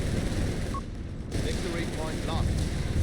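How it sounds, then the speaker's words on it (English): Artillery strike in Company of Heroes 3, with dense rumbling blasts and crackling gunfire packed together across the whole stretch and a steady loud battle din, while voices talk over it. "Got a artillery strike, I think, called in here on the MD-42."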